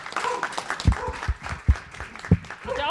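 Applause rises from the audience at the end of a clinical breakout session on primary progressive aphasia. The clapping is moderately loud, with a few sharp, close claps standing out from a busy, uneven patter.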